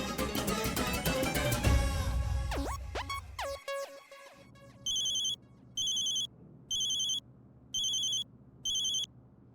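A call being placed on a phone: swelling music and a few sweeping tones, then a steady outgoing ringback tone in five evenly spaced bursts, clear and close, with no one speaking.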